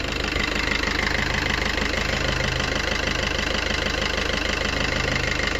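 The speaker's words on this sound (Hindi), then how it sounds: "इंडिया का सबसे अच्छा डीजल इंजन, आप सबको पता है, ये फिएट का डीजल इंजन है।" A 2019 Maruti Swift VDI AMT's Fiat diesel engine idling close by, a steady, even knocking clatter with a low rumble, constant and uninterrupted.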